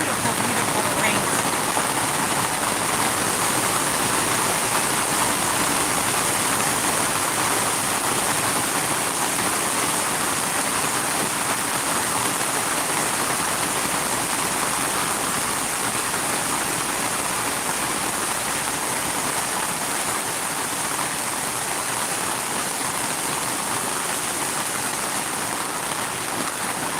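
Heavy rain pours steadily onto a garden beside a tiny-house homestead, a dense, continuous hiss that stays loud and even throughout with no pauses.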